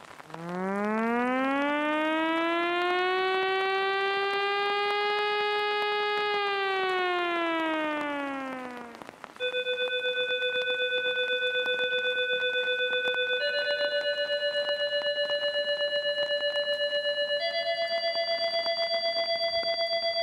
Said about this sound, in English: A few hours before the water rises, warning sirens are heard all across the city.